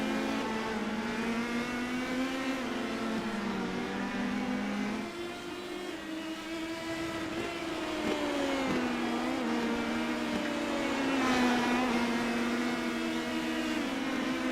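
Race car engine in a Formula CDM racing video game, droning loudly and continuously as it climbs over a hill crest, its pitch wavering with throttle and gear changes, no voices.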